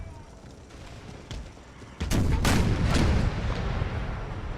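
Battle in the video game Empire Total War, with artillery and musket fire: a muffled background din, then a sudden loud burst of overlapping booms and crackling volleys that stays heavy for about a second before easing off.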